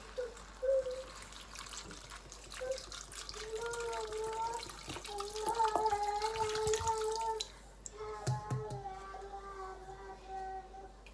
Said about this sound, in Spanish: Y cubrimos con agua.